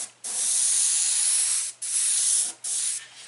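An airbrush sprays paint in three close, loud hissing bursts: a long one, then two shorter ones, each separated by brief pauses, with no talking.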